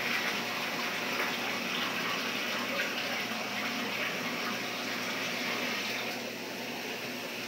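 Water steadily pouring into an Oscar fish tank during a water change, a continuous close hiss and gush of filling water with no talk.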